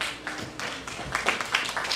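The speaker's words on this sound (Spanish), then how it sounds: "Wow, te aplaude la gente." A church congregation applauds right after a prayer, a short burst of scattered clapping at moderate distance, with some voices mixed in.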